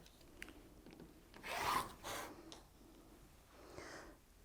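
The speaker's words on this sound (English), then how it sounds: "So I'm just going to trim that edge so that I know that I've cut through all of them." Rotary cutter slicing through stacked quilting fabric to trim an edge, a brief close rasping cut followed by a second shorter scrape, then a faint rub, quiet and without talk.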